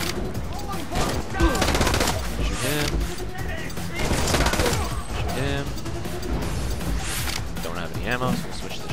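Rapid, dense gunfire and machine-gun bursts from the shooter video game The Club rattle almost without a break, mixed with game effects while a player talks over the action.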